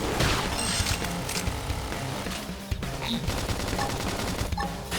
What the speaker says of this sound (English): Now, couple them with some gunfire.